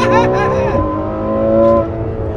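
A 2015 Ferrari F12 Berlinetta engine revs loudly up close, its pitch sliding down then holding steady, with a voice briefly audible over it.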